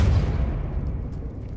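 A spell cast in Hogwarts Legacy, the Depulso force charm, lands as a deep booming thump that rolls out and slowly decays, loud and alone with no talk.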